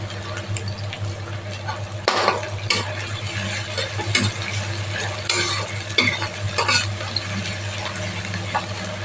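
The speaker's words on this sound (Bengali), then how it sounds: "পেঁয়াজটা একটু ভাজা হয়ে এসেছে" Onion and ginger fry in a pan with a steady sizzle, broken by stirring scrapes and clicks at intervals, close and moderately loud.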